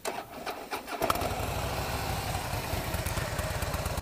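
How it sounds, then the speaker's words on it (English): A warm Harley-Davidson Softail Slim motorcycle engine cranks briefly, then catches and settles into a loud, throaty, steady idle rumble close by. "All right, everyone's favorite, the startup. And the bike is warm."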